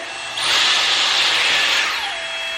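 A brief electric whirring buzz rises suddenly as a Dyson Airstrait hair straightener clamps together, holds for over a second, then tapers off into a faint hum.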